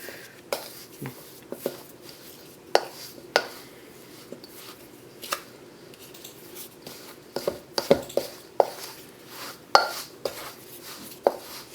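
A spoon or spatula works flour into a cooled mashed potato flatbread dough in a bowl, knocking and scraping against the sides in irregular bursts, close by, with quiet moments between the strokes.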